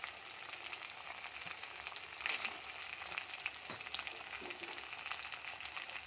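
Chicken sautés in a pan for kosha with a soft, steady frying sizzle. Faint clicks and scrapes of stirring occur now and then.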